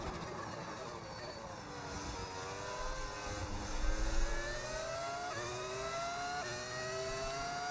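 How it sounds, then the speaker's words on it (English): A modded car engine sound in the F1 26 racing game, faint and steady, climbing in pitch through several quick upshifts with a short louder swell midway. "Is the engine sound modded?"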